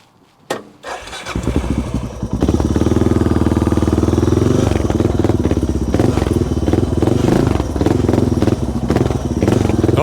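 A DR650 dual-sport motorcycle on an off-road trail starts up after a couple of sharp thumps, then its single-cylinder engine settles into a loud, close, steady chugging run with clattering underneath.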